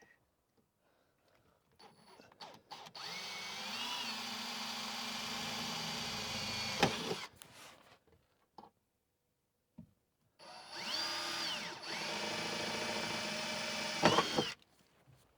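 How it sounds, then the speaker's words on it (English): A power drill bores pilot holes through a window panel on a Suzuki Jimny JB74 in two separate long bursts, each whining steadily before stopping, with quiet pauses between them. "That's the first time I've drilled holes in my Jimny."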